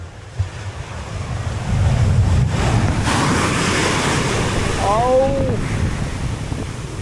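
Sea waves surging toward a seaside house make a steady loud wash and roar with heavy wind buffeting the microphone, plus a brief high squeal near the end.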